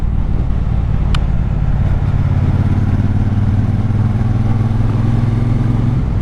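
Triumph Speedmaster motorcycle riding through open countryside, a steady low engine drone holding constant for the whole stretch with a brief click partway in, no talking.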